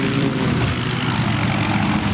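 Helicopter in the Battlefield 4 video game, set in the Siege of Shanghai, coming in to land, a loud, steady rotor and engine roar filling the whole clip with no voices over it.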